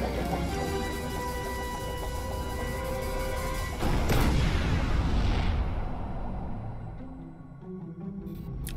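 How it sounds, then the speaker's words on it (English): A flashbang goes off in a Transformers Combaticons fan animation, a sudden loud bang that blooms into a long roaring decay over a busy soundtrack before fading out. "Flashbang."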